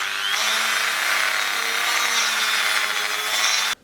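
A homemade bandsaw runs continuously while trimming a glued-up piece of wood, giving a loud, close, steady rasping whine that cuts off abruptly near the end.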